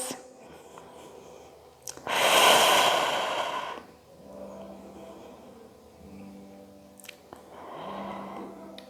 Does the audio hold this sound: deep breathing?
yes